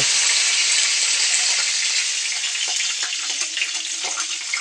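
Curry leaves hiss loudly in hot oil for an ash-gourd yogurt curry, a dense continuous sizzle close up that settles slightly with a few crackles near the end, with no talking.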